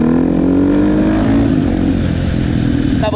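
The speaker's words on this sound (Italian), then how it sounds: "con sta moto che fa un bordello assurdo la vedo grigia" A loud KTM 450 motorcycle engine roars steadily throughout, its pitch climbing briefly as it revs, with wind and road noise close by.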